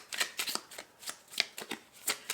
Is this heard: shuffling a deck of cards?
yes